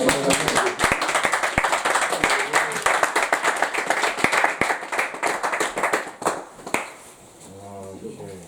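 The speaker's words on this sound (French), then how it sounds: "Est-ce qu'on peut acclamer le Seigneur?" A church congregation applauds and cheers the Lord, sharp claps ringing out in a lively stream over several seconds alongside raised voices, before the clapping thins and a single voice speaks at the end.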